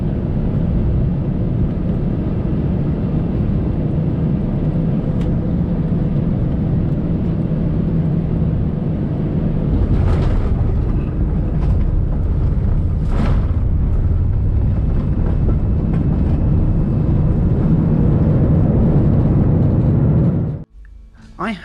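Loud, steady roar inside the cabin of an Aeromexico Boeing 787-9 touching down at São Paulo in bad weather, with a few thumps and rattles during the landing before the noise drops away at the end.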